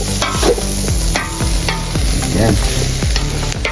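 About two kilos of chopped pork lung and heart for bopis being stirred in a hot pan, loud rhythmic scraping strokes over a constant sizzle of frying, with a brief spoken word.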